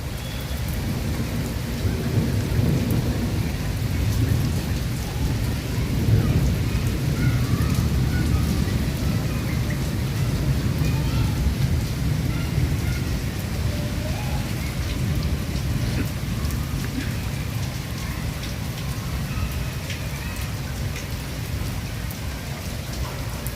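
Steady heavy rain and rolling thunder of a thunderstorm pour down across a village in Bijnor, a dense continuous wash with no voices.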